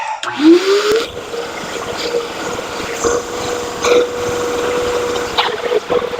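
A small spot cleaner doing a water rinse over a ketchup stain on fabric, with a steady wet sucking and gurgling hum, a rising whine at the start and intermittent slurps, loud and close.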